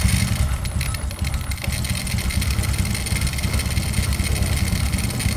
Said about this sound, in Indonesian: Namun sebelumnya nyalakan dulu kendaraannya